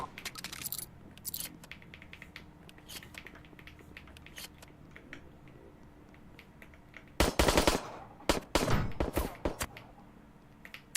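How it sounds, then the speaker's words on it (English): Gunfire in a crow-hunting video game: scattered faint distant shots and rattling bursts, then a louder cluster of rapid shots near the end over a steady low background. "I'm hearing gunshots."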